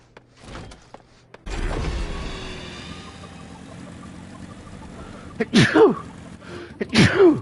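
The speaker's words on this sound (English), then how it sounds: "Gesundheit." A person sneezes twice in quick succession near the end, loud and close, after a stretch of ambient game sound in Final Fantasy XIV Heavensword.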